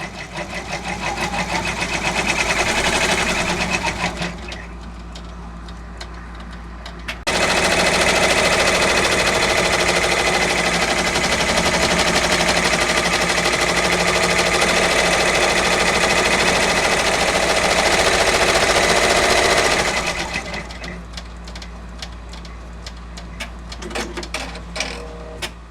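Brother BabyLock Venture embroidery machine stitching at 1000 stitches per minute, a rapid steady mechanical chatter that drops to a quieter idle hum for a few seconds, resumes at full pace for a long stretch, then settles again, close and unaccompanied by talk.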